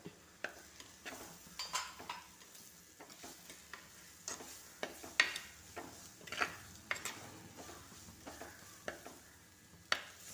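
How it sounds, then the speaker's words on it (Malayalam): Spices and pepper powder frying in a pan with masala for a spicy mackerel dish, with a faint steady sizzle under repeated light scrapes and taps of a spoon against the pan, close and quiet, with no talking. "ഇട്ട മസാലകളെല്ലാം നല്ലപോലെ മൂത്ത് വന്നിട്ടുണ്ട്"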